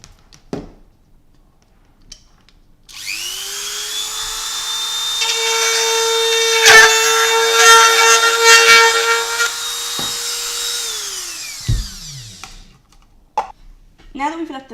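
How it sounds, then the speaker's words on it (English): A power drill spins up and runs with a steady high whine for several seconds, grinding as it bores, then winds down; brief clicks before and after. "Take the base of the hatchery and drill a hole into the side here."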